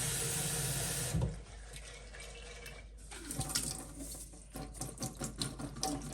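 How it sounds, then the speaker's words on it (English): Cold tap water runs and splashes into a sink, shifting as sprouts are rinsed under the stream, with brief clattering and spattering toward the end. "Let's give them another rinse in cold water."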